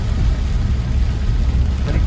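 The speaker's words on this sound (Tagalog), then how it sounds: "Hirap pagbiyahe pag ganito kalakas ang ulan." Heavy rain pouring steadily during a drive, a dense continuous roar with deep low rumble throughout, loud and unbroken.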